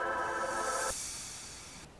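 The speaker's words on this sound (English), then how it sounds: "I also have this little cashmere cymbal transition," A cymbal transition effect in an electronic music track washes in as a bright hissing swell over a short tonal chord, then thins into a fading airy shimmer that cuts off near the end.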